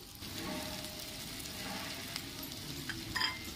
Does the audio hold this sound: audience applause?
no